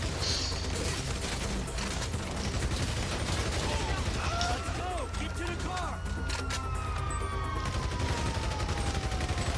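Sustained rapid M4 rifle fire in the video game GTA V, a dense fusillade of shots running through the whole stretch with crashes and mechanical clatter mixed in, while a voice speaks over it.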